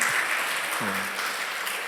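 A church congregation at a Sunday worship service claps after a hymn. The applause is a steady, even wash of hands, with one short voice breaking in briefly.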